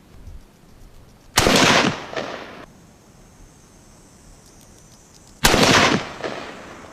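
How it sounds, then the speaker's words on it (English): Two loud rifle shots from a Savage Axis XP bolt-action rifle in .308 Winchester, fired several seconds apart, each a sharp crack with a short decaying echo, outdoors at a range with quiet between shots. "we're going to shoot 3 rounds"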